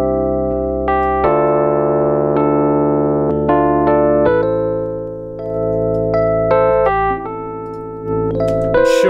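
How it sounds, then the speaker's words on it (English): Piano group bus runs through Logic Pro Mastering Assistant EQ, giving sustained piano chords and single notes that shift across a short passage, close and alone with no talk. "Now we're just listening to the piano group bus going through this Mastering Assistant with a completely"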